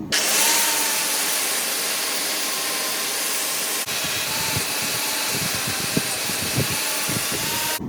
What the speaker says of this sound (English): You just get it to a dull red, put a cut brush with an angle grinder on it.